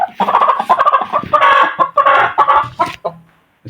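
An Aseel hen brooding peacock eggs clucks in a rapid, continuous string of close, loud, throaty calls, then falls quiet at the end.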